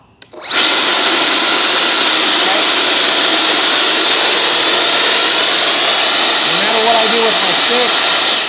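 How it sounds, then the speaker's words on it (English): FMS F-16 64mm electric ducted fan RC jet spooling up quickly and holding full thrust, a loud steady close whine and rush, with a voice briefly speaking under it near the end. "I have full thrust right now. So it's blowing at the high."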